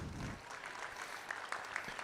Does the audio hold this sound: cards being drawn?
no